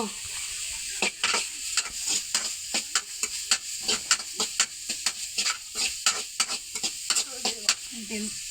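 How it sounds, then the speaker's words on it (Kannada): Food frying in a pan while a spatula scrapes across it in a quick, steady rhythm, dozens of loud close strokes over a hissing sizzle. "ಈಗ ಸ್ವಲ್ಪ ಒಳ್ಳೆ ಫ್ರೈ ಮಾಡ್ತೀವಿ"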